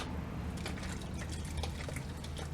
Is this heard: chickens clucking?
no